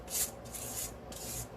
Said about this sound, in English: Now let's get my scraper here. Scrape out the pan.